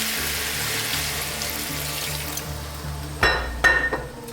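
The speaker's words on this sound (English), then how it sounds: "So I'm now going to add some water." Water is poured into a pan of cooking vegetable biryani with tomatoes, a continuous rushing splash that ends in a couple of sharper sizzling bursts.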